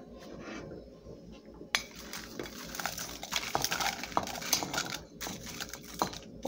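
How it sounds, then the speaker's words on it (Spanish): Chiles de árbol are ground bit by bit in a stone molcajete for salsa macha, with irregular scraping and sharp clinking knocks of stone on stone, close up and with no talk. "Los vamos a ir moliendo poco a poco."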